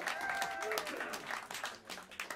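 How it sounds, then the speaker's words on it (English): Clapping from a crowd at Smalls, a jazz club, fills the room in a lively burst, with a few voices and a faint sustained instrument tone under it, tapering slightly toward the end. "On the guitar, please give a big round of applause to Mark Whitfield."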